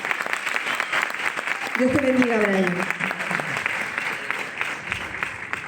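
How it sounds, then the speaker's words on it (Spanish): A crowd at an evening event applauds to welcome Brian Alvariño, a steady spread of clapping that someone briefly speaks over before it thins out. "Un fuerte aplauso, por favor."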